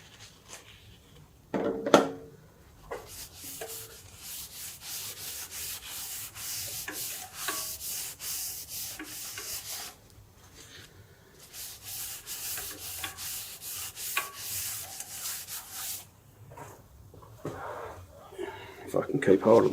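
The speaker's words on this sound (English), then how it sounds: "Now I'm going to put some Yorkshire grit." Yorkshire grit being rubbed onto a natural edge elm bowl spinning on a wood lathe, a repeated scratchy rubbing in fast regular strokes, fairly close, with brief pauses between passes.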